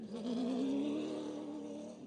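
A rally car in the Norra 500 off-road race spinning through a corner at Erendira, engine note climbing steadily as it accelerates away, moderately loud and sustained.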